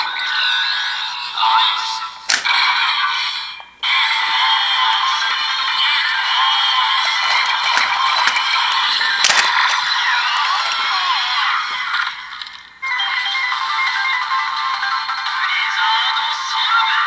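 Electronic chirps and a high-pitched jingle from a DX Blizzard Sorbet Gochizo toy from Kamen Rider Gavv, a continuous thin, bright sound with brief breaks and clicks, played close and alone.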